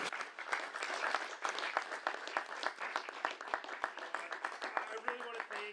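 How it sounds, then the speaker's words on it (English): An audience applauds presenters at a synthesizer event, with sustained dense clapping throughout and some distinct sharper claps standing out near the front. "let's give our presenters a round of applause"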